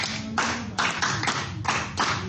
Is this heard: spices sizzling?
no